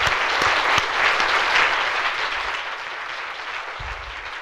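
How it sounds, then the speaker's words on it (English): An audience gives a round of applause after a talk, dense steady clapping at close range that holds throughout and slowly thins toward the end, with no voices over it. "I'd just like to ask everyone to join me in a round of applause again."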